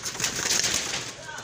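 Pigeons coo steadily through a soft, continuous murmur, the birds close by in a rural loft setting with a faint flutter of activity around them.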